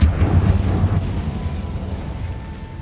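An Incendio fire spell cast in Hogwarts Legacy gives a loud, low rumbling burst like a whoosh of flame. It starts strong and slowly tails off into a roaring hiss.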